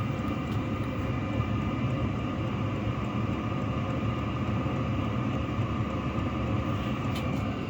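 Two Chinese diesel heaters burning regular diesel run together with a steady, loud, broadband roar and low rumble, constant throughout with no breaks.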